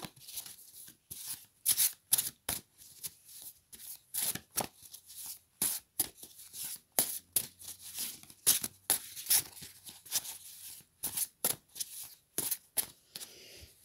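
A deck of tarot cards is shuffled and cut in a quick series of crisp riffling bursts, close and fairly loud, with short pauses between them and no voice.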